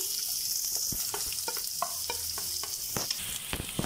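Garlic and onions fry in a pan for aloo mutter, a steady bright sizzle near at hand, punctuated by scattered clicks and scrapes of stirring.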